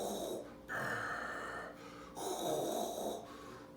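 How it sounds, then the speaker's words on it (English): Heavy, rasping mechanical breathing of a very tall masked figure dressed in black with a cape, heard as slow alternating inhales and exhales, close and steady, with no talking. "you hear the sound of breathing"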